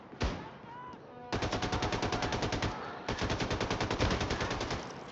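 Bursts of heavy automatic gunfire from a big gun in the Wolfenstein: The New Colossus video game. After a short opening shot, long, rapid, loud volleys run almost continuously with only a brief pause.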